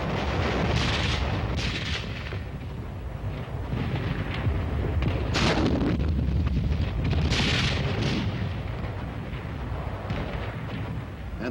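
Artillery firing in battle, a rolling series of heavy booms and blasts merging into a continuous thunderous rumble, loud and dense, with distant echoing reports throughout.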